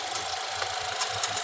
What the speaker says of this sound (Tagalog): Tapos meron siyang palya. Namamalya siya.